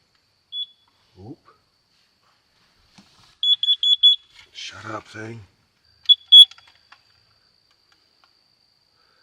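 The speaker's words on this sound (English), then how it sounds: "you're just setting off my CO2 alarm" A CO2 alarm inside a camper van gives a quick run of four shrill, high beeps, then a pair of beeps a couple of seconds later, amid near silence with a person briefly speaking between them.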